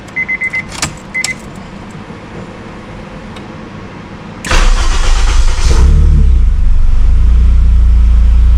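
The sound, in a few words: Honda S2000 K-swap car engine starting up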